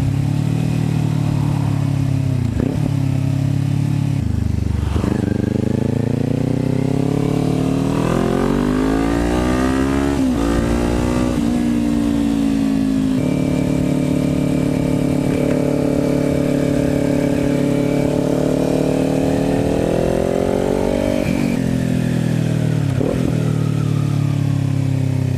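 A stationary Kawasaki Ninja 400 motorcycle with an aftermarket exhaust idles with a throaty, loud exhaust, then revs up several times, pitch rising and falling before settling back to idle.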